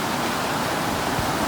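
River water flows past a campsite by the Appalachian Trail at Big Branch, a steady, close rushing wash with no voices.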